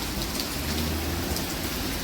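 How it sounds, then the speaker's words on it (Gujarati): Steady rain falls continuously in Gandhinagar, a dense hiss of drops spread evenly with no voices. "યાર ઉમેર વરસાદ ચાલુ થઈ ગયો ગાઈસ"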